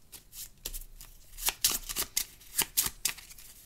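Red poker cards from a Tiny Epic Western game are shuffled by hand, a series of crisp riffling bursts and soft card slaps in an irregular rhythm, close and clear with no talk.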